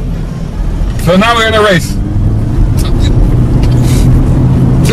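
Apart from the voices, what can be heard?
drone of Lexus CT200h hybrid car engine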